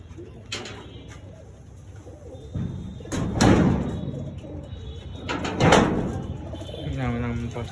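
Domestic pigeons coo in a loft, soft repeated throaty calls close by, mixed with a few sharp knocks and rustles.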